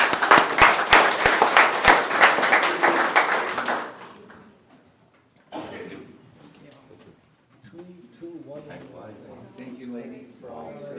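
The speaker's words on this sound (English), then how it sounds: "please give them a round of applause." Applause for 10-year recipients at a county board meeting, a burst of loud clapping lasting a few seconds that stops abruptly, followed by quieter voices talking in the room.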